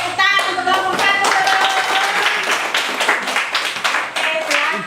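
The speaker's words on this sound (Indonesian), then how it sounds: "Kita tepuk tangan untuk kelompok 1" A classroom of students claps hands for group 1, quick overlapping claps close and loud, with children's voices calling out over them.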